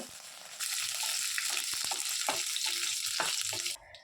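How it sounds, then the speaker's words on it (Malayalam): Two broken dried red chillies and curry leaves fry in hot oil for a crab thoran. A loud, steady sizzle starts abruptly and holds with faint stirring clicks, then cuts off near the end. No one speaks. "ഇതിലേക്ക് നമുക്കൊരു രണ്ട് ഉണക്കമുളക് രണ്ടായിട്ട് നുറുക്കിയതും അതുപോലെ കുറച്ച് കറിവേപ്പിലയും കൂടിയിട്ട് ജസ്റ്റ് ഒന്ന് മൂപ്പിക്കുക"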